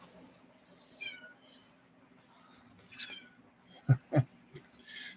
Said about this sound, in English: the cat starts talking